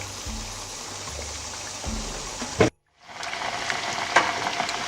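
Egusi soup with bitter leaf and assorted meat cooking in a pot, a steady bubbling sizzle with a few scraping knocks, briefly cut to silence before the simmer resumes.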